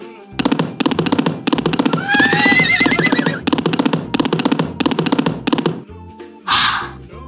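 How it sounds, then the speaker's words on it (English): A horse gives a shrill whinny over a steady, rhythmic clatter of galloping hooves, loud and close in a children's alphabet song, followed by a brief burst of noise. "Horses."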